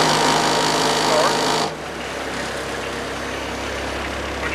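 An MPA vehicle engine idles with a steady low hum, running louder and harsher at first before dropping to a quieter, even idle that holds to the end, with no talk over it.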